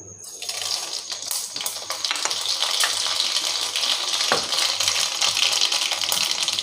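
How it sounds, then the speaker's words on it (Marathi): Dried fenugreek and mustard seeds dropped into about two spoons of hot oil in a pan: a steady, loud, hissing sizzle that swells after the first second and continues with occasional small pops. "आता घालूया वाळलेली मेथी आणि मोहरी."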